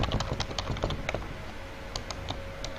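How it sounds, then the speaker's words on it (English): Fingers type steadily on a computer keyboard, producing a rapid, close, uneven stream of key clicks with brief pauses and no voices. "You start typing in something."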